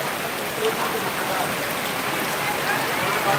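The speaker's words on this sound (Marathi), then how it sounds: "पाऊस" Heavy unseasonal rain pouring over a vegetable market in Boisar, a steady dense hiss of downpour close by and fairly loud throughout, with no clear voices over it.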